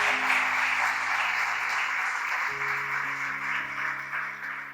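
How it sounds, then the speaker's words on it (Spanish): A church congregation applauds loudly and steadily throughout, a dense wash of clapping with organ or keyboard tones sustained underneath. "Y dele ahora sí un aplauso fuerte,"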